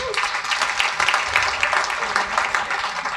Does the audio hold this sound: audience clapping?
yes